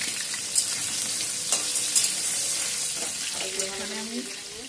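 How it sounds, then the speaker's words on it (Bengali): Salted potatoes fry in hot oil, giving a loud, steady sizzle with occasional stirring clinks and scrapes near the pan, and no talking. "প্রথমে আমি আলুগুলো ভেজে রেখে দেবো।"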